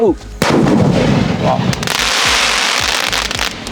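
A Hot Girls firework sky shot goes off with a sharp bang followed by a loud, sustained crackling burst and several further pops, close and powerful.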